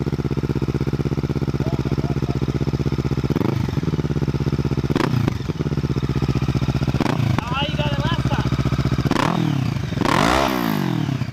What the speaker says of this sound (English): the Z650 has a 180-degree crank, which results in a sound like this.